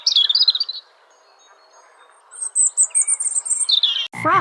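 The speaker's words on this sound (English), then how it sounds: "Flamingo." A flamingo gives high, nasal honking calls in short bursts, first a brief call and then a rapid run of repeated honks after a quiet gap, close and fairly loud.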